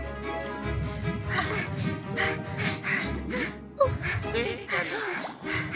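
Cartoon plastic ducks quack in a busy animated scene, squeaky nasal calls repeating over background music and character sounds, with voices talking in the mix.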